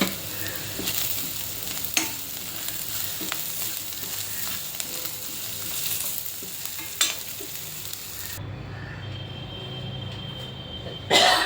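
Onion and turmeric sautéing in a pan for kulith (horse gram) pithi, a steady close sizzle with stirring scrapes and a few sharp clinks, easing to a softer bubbling near the end.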